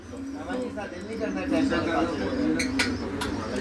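Rampuri and Teddy breeder pigeons coo close by in a steady low murmur, with someone talking over them throughout.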